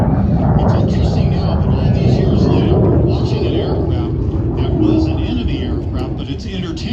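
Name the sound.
MiG-17 (license-built Lim-5) jet flying at airshow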